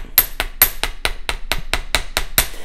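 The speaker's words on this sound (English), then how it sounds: "I'm just gonna hit this several times until it's flat." A hammer striking a small wire loop to flatten it for earrings, about eleven sharp, bright metallic taps in a quick, even rhythm, close and alone.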